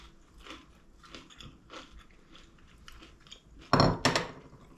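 Crunchy battered onion ring bitten into, giving one loud close crackling crunch followed by a second, after a few softer chewing and handling sounds.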